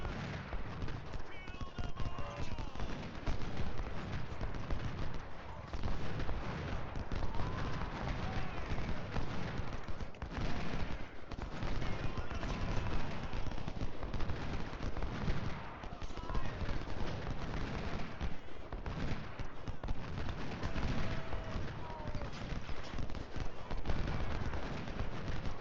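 Continuous crackling musket volleys and artillery in Ultimate General Civil War's Battle of Shiloh, a dense, steady barrage of shots that never lets up, heard at a distance across the whole stretch.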